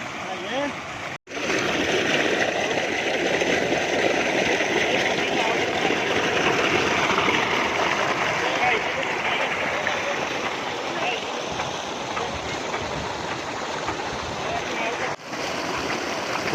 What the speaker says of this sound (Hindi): काला इंजन चल गया जी